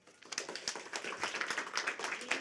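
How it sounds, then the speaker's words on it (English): An audience applauds after a poetry reading at a festival day of rhythm and unity. The clapping is steady and moderately close, with many hands going for a couple of seconds. "Give another round of applause for Charanjit Gill"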